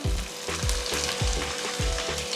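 Ginger, garlic and mustard seeds fry in hot oil for a clam and coconut fry, giving a close, steady sizzle with regular spatula strokes roughly every half second and no voices.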